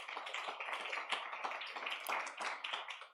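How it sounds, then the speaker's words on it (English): An audience applauds at a plenary session of a policy conference on inequality, work and nature, steady dense clapping sustained throughout, moderately loud with no voices over it. "Let's give him a round of applause."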